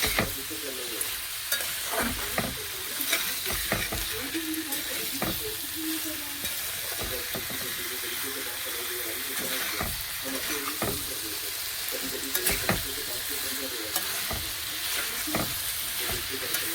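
Food is stir-fried (kosha) in a pan with steady sizzling under repeated, rhythmic spatula scrapes and knocks against the pan, continuing throughout.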